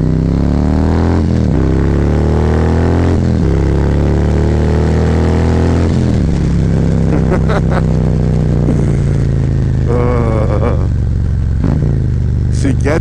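A motorcycle fitted with a Screaming Eagle cam opened up hard, engine roaring and revving higher with quick gear changes, then settling into a steady drone, loud and close, with a voice speaking over parts of it.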